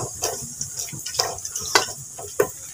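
Whole garam masala spices crackle in oil with sparse, irregular pops and light stirring scrapes, close up and short, with no voices.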